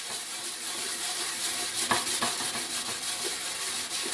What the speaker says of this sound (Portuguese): E você não precisa ficar esfregando, é só passar a bucha